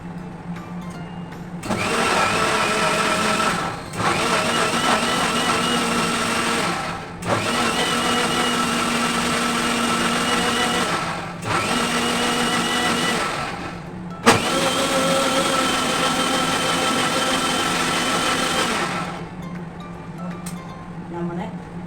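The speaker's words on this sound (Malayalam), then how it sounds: "മിക്സിയിൽ മൂടി വെച്ച് അടിച്ചു കൊടുക്കുകയാണ്." A lidded mixer grinder blends bread, egg and milk into a cake batter in a home kitchen, its motor whirring loudly in about five sustained bursts separated by short pauses.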